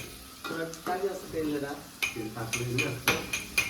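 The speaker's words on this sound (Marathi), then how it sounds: "कांदा ब्राऊन होऊ दे राम तेल बघ तेल" Onions frying in oil in a home kitchen pan, with sizzling under repeated scraping stirs and occasional utensil clinks; voices talk intermittently over the cooking.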